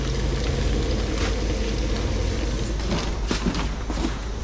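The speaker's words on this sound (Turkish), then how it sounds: "O küçük balık köftelerini de kızartıyorlar burada." Small fish balls frying in hot oil in a local Senegalese kitchen, a dense continuous sizzle close up with a few sharper crackles and pops toward the end.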